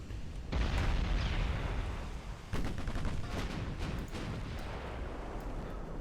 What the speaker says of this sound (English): it looks like everybody's guns are all still firing